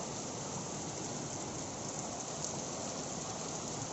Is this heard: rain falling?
yes